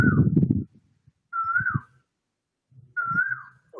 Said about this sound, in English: Vishnath, my friend, is saying that the cuckoo is too loud